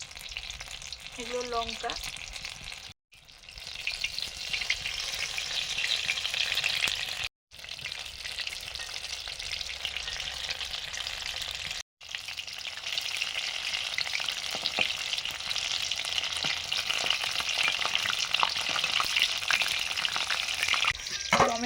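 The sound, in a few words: vegetable chop frying in hot oil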